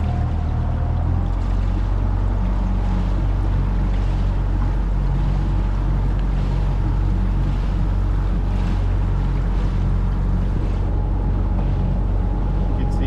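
Steady low engine rumble of a motorboat on Lake Ivanhoe in Orlando, with water rushing and splashing along the hull, constant and close throughout.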